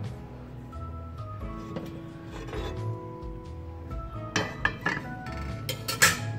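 A metal pressure pan is lifted out of a larger cooking pot while dum tikka is being made, producing a series of clanks and metallic clinks, with the sharper knocks clustering toward the end.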